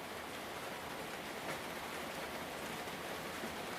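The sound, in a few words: rain falling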